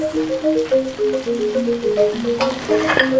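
Lemongrass hits hot oil and sizzles steadily for a few seconds while sambal prawns with bitter beans are cooked, with a melodic tune running underneath.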